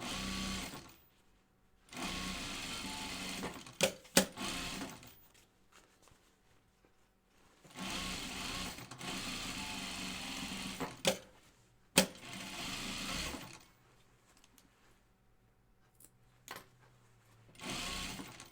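Sewing machine stitching down seams on a bulky fabric vest, running in several separate bursts of steady whirring with quiet pauses between.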